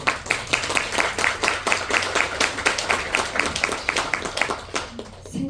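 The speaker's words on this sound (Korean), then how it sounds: "생각지도 못한 데서 박수를 받네요" Audience applause fills a seminar hall at an Amway gathering, dense rapid clapping from many hands held steady and loud before tapering off at the end.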